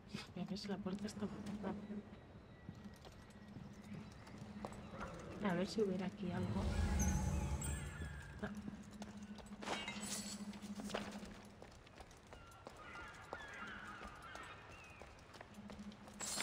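A horse neighs briefly in the Odyssey DLC video game, heard through a window amid faint ambient noise, while someone talks over most of the scene.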